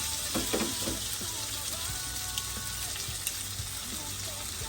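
Sisig sizzling in a hot pan while being mixed, a continuous bright crackle and hiss with scraping stirs, close and steady throughout.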